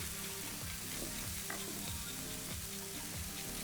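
Vegetables frying in a single pan for a vegan spaghetti bolognese, a steady close sizzle with faint stirring scrapes, no voices.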